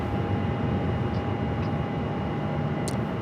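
An American Airlines heavy jet rolling for takeoff on runway 7 left at Phoenix Sky Harbor, a steady distant broadband roar that holds evenly throughout with no talk.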